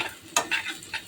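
Onion and garlic being stir-fried in a pan for okra fry, with a sharp scrape of the spatula followed by a few softer sizzling stirs, close and brief.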